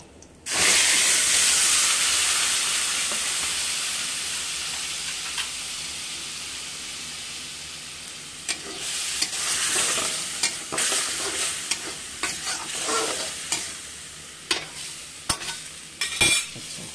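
Cumin seeds fry in a hot pan, starting with a loud steady sizzle that slowly fades, then broken by scattered pops and crackles near the end.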